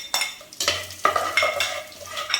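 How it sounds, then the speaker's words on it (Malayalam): Cumin and cinnamon sauté in hot oil inside a pressure cooker, a soft sizzle broken by several sharp scrapes and clinks of a spoon against the metal pot, close and clear. "ജീരകം, കറുവപ്പട്ട, ഈ ഐറ്റംസ് എല്ലാം കൂടെ നമ്മൾ ഇതിലേക്ക് ഇട്ട് വഴറ്റുന്നു"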